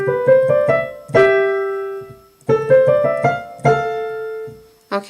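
Piano plays a short ornamented exercise from the Technique and Artistry book, with quick grace-note flourishes around sustained melody notes, three phrases separated by brief pauses, played alone and clearly.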